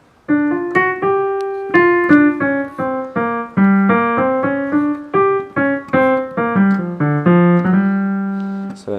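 Solo piano run from a song, played as a steady stream of clear, close notes climbing and falling over sustained chords, with no voice.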